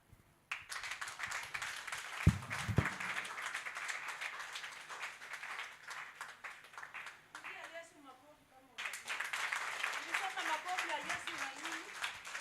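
Church congregation clapping and cheering during a Sunday service, broadband applause that runs steadily, drops briefly near the middle, then resumes, with a voice over it.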